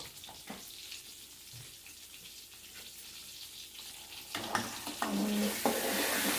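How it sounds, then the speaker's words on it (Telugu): Eggs fry lightly in a pan with salt and turmeric for a country egg curry, giving a soft, steady sizzle that swells louder and denser in the final seconds, with a few faint clinks. "ఇవి ఎక్కువ ఫ్రై అవ్వకూడదు ఫ్రై అయితే మళ్ళీ గట్టి పడిపోతుంది"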